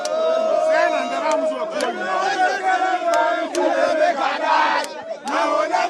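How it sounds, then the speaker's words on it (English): Street crowd of young people jeering and cheering during a protest on a blocked road, a dense mass of overlapping shouts and yells, loud and continuous with rising and falling surges. "And so there they are, engaging in jeering and cheering."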